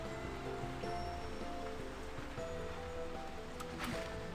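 Rain in the video game Slime Rancher 2, a steady patter of drops mixed with soft tonal game background sound, continuous and moderately loud with no talk.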